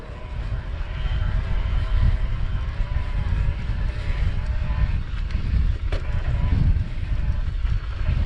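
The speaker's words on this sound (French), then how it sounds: "Là on est en plein vent." Strong wind roars across an open mountain trail in the Iraty area during an electric mountain bike outing, with steady low-frequency gusting and microphone buffeting throughout.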